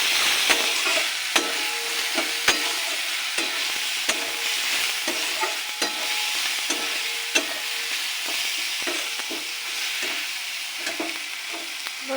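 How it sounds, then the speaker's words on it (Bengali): Spices with salt, turmeric, chili powder and ground cumin sizzle and fry in a pan while being stirred, with a steady hiss broken by regular scraping clicks of the spoon, fairly close with no talk. "এবার কষিয়ে নেব।"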